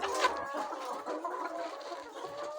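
A flock of chickens on a poultry farm in northern Ghana, point-of-lay birds clucking and murmuring together in a continuous close, busy chatter with no talking.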